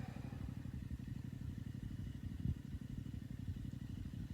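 A motorbike engine rumbles steadily outdoors, a continuous low drone that swells slightly midway as it passes, with no voices over it.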